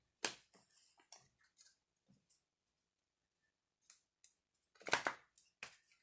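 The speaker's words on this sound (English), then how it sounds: "Okay, let me shuffle these again." Tarot cards being shuffled by hand, heard as a quiet series of dry papery riffles and taps in irregular bursts with pauses between, close by and soft.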